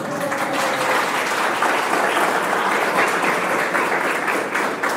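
A church congregation breaks into sustained, dense applause, a steady wash of many hands clapping together for several seconds, loud and continuous.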